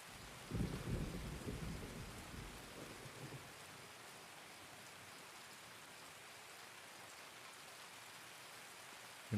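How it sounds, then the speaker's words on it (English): Thunder rumbles loudly at first, then steady rain falls in a game weather scene in Escape from Tarkov, with the downpour continuing evenly throughout. "there's some rain right there"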